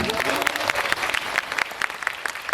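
Audience applause at a live Korean film talk event, many hands clapping in a fairly close, loud burst with distinct individual claps popping through the wash.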